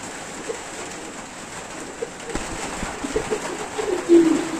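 Pigeons in a loft coo softly in the rain, a few low throaty calls rising near the end over a constant hiss of falling rain and light knocks.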